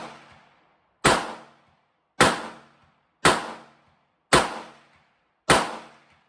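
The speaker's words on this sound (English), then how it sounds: "22 Winchester Magnum out of a Ruger LCR" .22 Winchester Magnum rounds fired from a Ruger LCR revolver, five sharp, loud shots at steady intervals of about a second, each with a short decaying echo and no talk.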